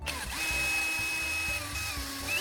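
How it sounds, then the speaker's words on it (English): A handheld electric drill whirs continuously, driving a screw to fix a butterfly-shaped pull tab to the side of a cut tuna can, with the motor's steady drone and small pitch shifts heard up close. "attaching it to the side of the cut can, using an electric drill."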